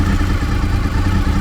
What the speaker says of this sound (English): It's idling at just over 1000 RPM, so I'm going to raise it a little bit